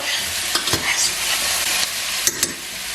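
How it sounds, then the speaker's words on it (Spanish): Chicken, pepper, carrot and courgette sizzle steadily in a frying pan while a utensil stirs them, with a few sharp scraping knocks against the pan, close and alone. "Le ponemos la zanahoria y el calabacín. Removemos otro poco."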